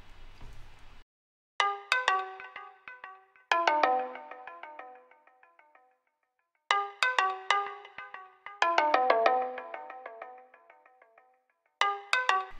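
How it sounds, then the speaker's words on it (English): Bright plucked synth counter melody programmed in FL Studio, its short decaying notes arriving in clustered phrases with gaps of silence between them, dry and alone, with a faint echo tail trailing the notes. "I grabbed another instrument and like a sort of pluck sound"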